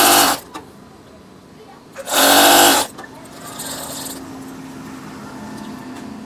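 A sewing machine stitches curtain fabric in two short, loud bursts, the second about a second long, with a quiet room tone in between and after.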